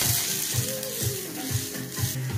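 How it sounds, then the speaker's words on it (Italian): Chiodini mushrooms frying in hot oil in a pan, a steady close sizzle with rhythmic scraping and stirring thumps about twice a second, no talking. "La prima cosa che metto in pentola sono i chiodini, che ci mettono un pochino di più a cuocere."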